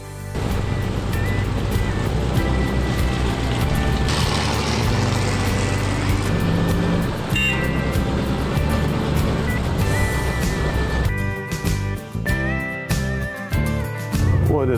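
A 1934 Ford pickup truck with a Flathead V8 drives on a road in Chattanooga, Tennessee, its engine droning loud and continuous with shifting pitch throughout.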